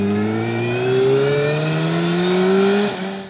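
A Suzuki Hayabusa motorcycle engine held on launch control, its rev limiter set near 4,500 RPM, drones loud and close with a steady rising pitch before it drops off at the end.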